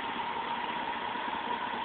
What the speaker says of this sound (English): The engine's been running about 15 minutes now, and at idle speed